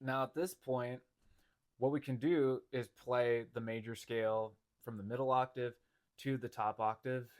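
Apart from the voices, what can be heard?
No distinct noise like a dog, phone or traffic.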